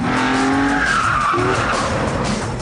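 A high-revving BMW M3 CSL engine howls and tire squeal skids across the clip on a track, loud and close throughout, with no voices.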